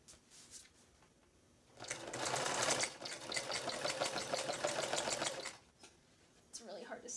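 Sewing machine with a walking foot stitching fabric edging onto a journal page, a steady fast mechanical whir of needle strokes for several seconds between quieter moments, close and clear.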